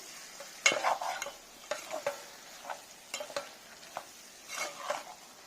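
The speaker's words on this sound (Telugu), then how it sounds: "అదంతా కలిసేట్టు పైకి కిందకి ఒకసారి కలుపుకోవాలి." A spoon stirs fish pieces through a Godavari koyyanga fish curry in a pan, making a series of separate scraping and clinking strokes over a faint low sizzle, at close range with no talking.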